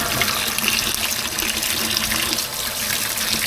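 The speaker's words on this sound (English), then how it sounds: "Alright, let's run some water." Kitchen sink tap runs at full pressure into a drain just cleared of a clog, a loud, steady, close rush of water with no talk.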